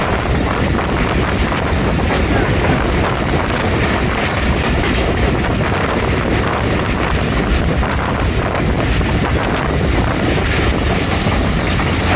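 The Jaffar Express rolls through on a sharp curve near Gujar Khan in foggy winter, giving a loud, continuous rumble of wheels and carriages with faint clatter, heard close from on board.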